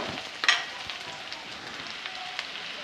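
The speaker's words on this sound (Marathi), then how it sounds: "इलायची मोठी, लसूण आणि अद्रक थोडं थोडं। हे छान परतून घेऊया।" Cardamom, garlic and ginger sautéing in a pan for a matar paneer curry, giving a quiet, steady sizzle with a few soft stirring clicks.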